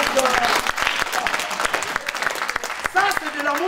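Church congregation applauding and cheering during a sermon, a steady dense clatter of clapping mixed with crowd voices and some speech throughout.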